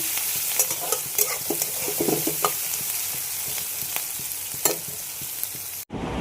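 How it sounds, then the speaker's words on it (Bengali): A whole dried red chilli tempering in hot oil with chopped onions, giving a loud, dense crackling sizzle with scattered spatters and occasional scraping, heard close up and alone before cutting off abruptly. "একটা গোটা শুকনা লঙ্কা ফোড়ন দিলাম"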